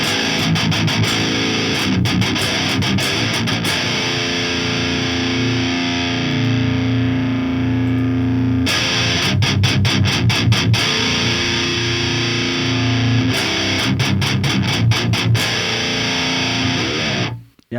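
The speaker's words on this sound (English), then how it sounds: "Let's switch it over to the vintage channel and the 6L6 tubes instead, and see and hear how that sounds." Heavily distorted metal guitar through the Amp Locker amp simulator on its vintage channel with 6L6 tubes, playing dense, loud chugging riffs with sustained chords and brief pauses between sections, no voices.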